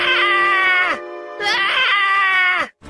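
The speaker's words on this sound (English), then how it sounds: "Everyone ran in the direction of the screams." A man screams in terror in an audio drama, two long, loud, strained cries separated by a brief pause, close and unaccompanied.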